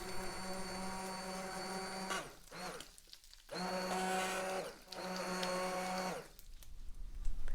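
A blender purées butternut squash coconut milk soup, running loudly in three bursts, its motor whirring steadily with brief stops between, then a clatter as it winds down.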